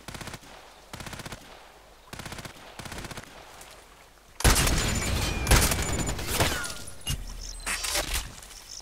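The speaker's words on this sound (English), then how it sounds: "Wasn't that just one shot?" Gunfire in the Contract Wars shooter game: a few sharp, spaced rifle reports echo first, then a loud burst of close, overlapping shots and rattling impacts takes over for several seconds.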